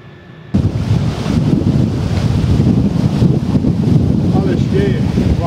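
Strong autumn wind in Kashubia, Poland, buffets the microphone in a loud, continuous roar that starts abruptly and keeps rumbling, with faint faraway sounds underneath.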